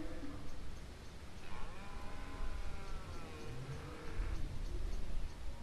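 A single drawn-out cow's moo rises over steady outdoor noise, moderately distant.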